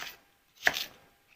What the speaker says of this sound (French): on va les couper en gros morceaux